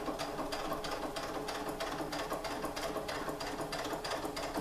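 Sewing machine stitching over elastic on a chiffon skirt, a close, steady whirring hum with fast regular needle clicks, running unbroken and alone.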